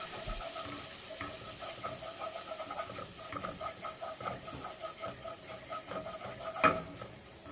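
A spoon stirs garlic and onion powder into a queso blanco dip in a pot, giving quiet, rhythmic scraping and soft clinks, with one sharper knock near the end and no talking.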